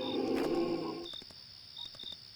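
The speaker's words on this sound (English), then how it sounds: "Sound like an elk" A low, roaring animal call like an elk's sounds in the analog horror game The Lancaster Leak, set in a night-time state park, lasting about a second before fading into a quiet chirp of insects.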